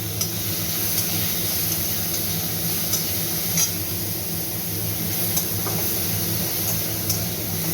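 Onion greens and chopped onion hit hot olive oil in a pan, giving a steady close sizzle with faint scraping stirs and small ticks throughout, with no talking.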